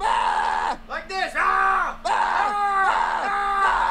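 A loud, close voice yells and screams in long, strained bursts with rising and falling pitch, breaking off briefly between shouts, in a comedic puppet-show scene.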